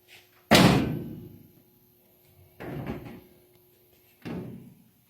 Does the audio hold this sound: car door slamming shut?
yes